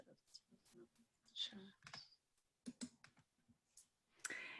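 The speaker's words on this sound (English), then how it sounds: "A few typing noises through as well again so far." Scattered keyboard clicks and taps sound close by, irregular and sparse, mixed with a voice talking quietly.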